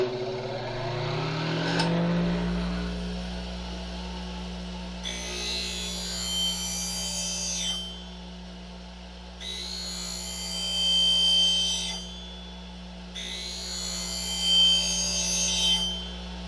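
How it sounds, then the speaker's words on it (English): A grinder hums steadily as a skew chisel is held to the wheel in three passes, each a few seconds of bright rasping hiss. "Turn the grinder on."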